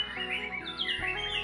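A captive white-rumped shama, a murai batu crossbreed, sings close and clear, a rapid run of bright warbled notes over a faint low hum.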